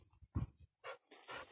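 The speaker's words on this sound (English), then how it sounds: "She's a kind dog. She's a good dog, but she just doesn't listen." A dog whimpers and pants close by, short breathy puffs and a soft whine in a quiet outdoor setting, with no talk.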